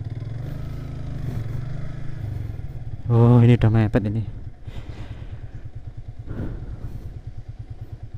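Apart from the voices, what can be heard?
motorcycle riding on a rough track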